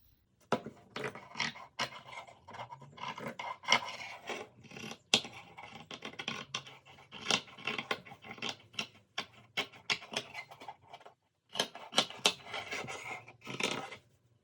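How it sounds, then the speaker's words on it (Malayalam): Scissors snip steadily through fabric for a six-month-old baby's frock, a close run of crisp rapid cuts with one brief pause before the snipping resumes. "ഓക്കെ, ഇനി ഞാനത് കട്ട് ചെയ്യാൻ പോവാണ്."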